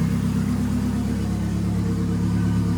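Car engine idling at about 1,000 RPM after tuning, a steady, deep, close rumble with an even pulse throughout and no talk over it.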